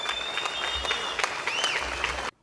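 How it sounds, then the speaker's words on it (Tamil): Audience applause at a Tamil poetry event on a political stage, a dense burst of clapping from a crowd that stops abruptly after about two seconds, with faint whistles and voices mixed in. "நாமும் கைத்தட்டுவோம்"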